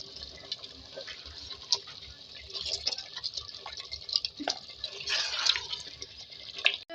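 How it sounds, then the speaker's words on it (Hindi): Water poured from a glass into a cooking pot of potato and chicken curry, giving a faint, uneven dribbling and splashing for several seconds with small drips, fairly close. "हम 1 गिलास पानी डालेंगे ताकि हमारे आलू भी गल जाए"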